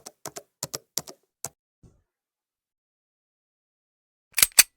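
Keys clatter on a computer keyboard in a quick, uneven burst of close, crisp taps, then fall silent for a couple of seconds before a few final louder clacks.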